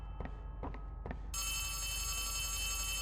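In the video game Poppy Playtime Chapter 3, a telephone starts ringing with a steady, shrill electronic trill after three dull footstep thuds, close and continuous to the end.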